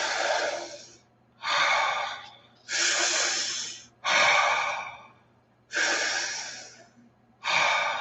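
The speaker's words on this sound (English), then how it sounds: "Breathe." Deep, slow meditation breathing, six long audible breaths in a steady rhythm with brief pauses between, close and clear with no talking.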